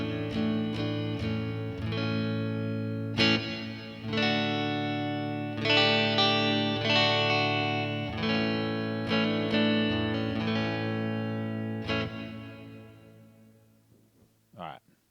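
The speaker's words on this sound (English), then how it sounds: "So let's go ahead and put a reverb on here." A clean electric guitar played through a reverb effect on a Headrush pedalboard: a series of strummed chords, each ringing out with a lush, spacious tail, before the sound decays to near silence.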